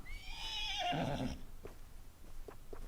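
A Shire horse in Red Dead Redemption 2 lets out a loud, close whinny that rises and then falls away, followed by a few soft hoof clops in a stable.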